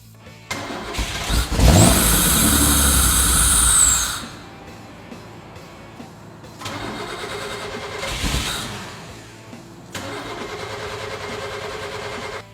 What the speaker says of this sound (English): I'm glad that it started with starting fluid